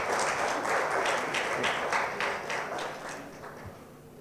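Conference audience applause at an internet meet-up, a steady patter of many hands clapping that gradually thins out over four seconds, with no talk on top.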